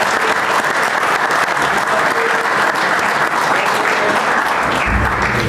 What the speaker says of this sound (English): So a big round of applause for our highest achievers at VF.